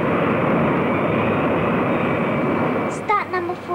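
A large airliner's number one engine spins up during start, a broad steady roar holding loud and close before a few faint voice-like chirps near the end.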